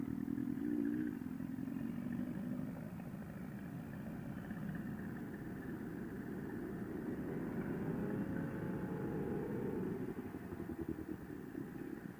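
A sport naked motorcycle rides along as throttle is applied, a steady engine drone under rushing wind that swells slightly and wavers in pitch near the end, heard from the rider's position.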